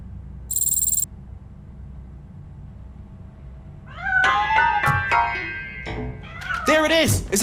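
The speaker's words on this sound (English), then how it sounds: "That cat must be hiding inside." Cat meowing in the video game Robocop: Rogue City, several rising and falling meows in close succession after a quiet stretch with a short tone, over a low ambient hum.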